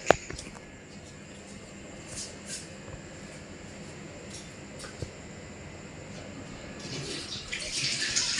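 Water runs steadily from a tap while a face is washed, a soft continuous hiss with faint splashes and a few small knocks, swelling slightly at the end.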